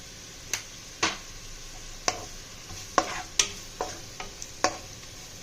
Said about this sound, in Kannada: ಸೊ ಇದನ್ನು ನೀಟಾಗಿ ಫ್ರೈ ಮಾಡ್ಕೊಳ್ಳೋಣ.